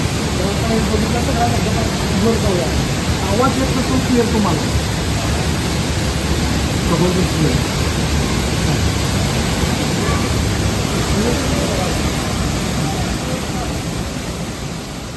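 Thoseghar Waterfall in monsoon rain roars as a dense, unbroken wash of rushing water, loud and steady throughout, with faint talk now and then beneath it.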